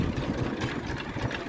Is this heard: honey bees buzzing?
no